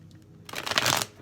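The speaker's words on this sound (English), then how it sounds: "we'll see if I could learn to shuffle the cards." A quick riffle of tarot cards being shuffled, a soft brief flutter building after a quiet moment and fading out, close and clear with no talk.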